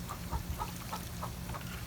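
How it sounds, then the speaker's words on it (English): A rooster kept with a hen gives a run of soft, low clucks in short repeated pulses, faint and close, over a steady fan hum in its enclosure. "actually think it's a rooster, not chicken"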